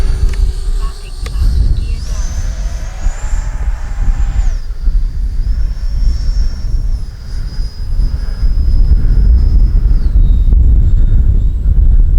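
An FMS Futura 80mm electric ducted fan RC jet makes a flying pass, a loud whining turbine tone shifting in pitch over heavy wind rumble and outdoor noise.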